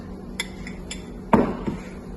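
A spoon mixes chocolate cake batter with flour in a bowl. A few light metallic clinks are followed by one sharper knock and a brief scrape, close by and with no voices.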